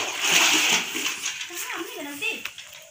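Water splashing as a bucket is drawn from a village well in the morning, a close spattering burst that fades into softer sloshing while someone talks over it.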